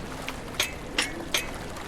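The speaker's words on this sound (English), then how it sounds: "The water is still going into the pump, right?" Water flowing into a drainage pump at a flooded construction site in the video game DrainSim, a soft continuous watery wash with three short splashy bursts at regular intervals, fairly faint, without speech.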